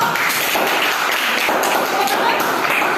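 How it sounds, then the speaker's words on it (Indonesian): Classroom applause for a group of students, with loud, dense, continuous clapping filling the room, along with some voices. "Tepuk tangan dulu untuk kelompok."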